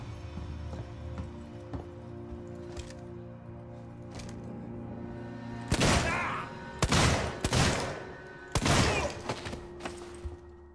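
Gunshots in Alien: Isolation: a few loud, sharp blasts in irregular succession after a quiet stretch of low ambient hum and faint distant clicks.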